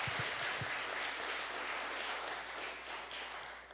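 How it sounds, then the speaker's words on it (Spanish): Applause fills a church congregation, a steady, fairly faint wash of clapping from many hands lasting throughout without a break. "Denle un aplauso al Señor por su palabra."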